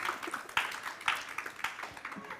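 Scattered clapping from a comedy show audience, a short patter of uneven claps at moderate distance with a few sharper hits.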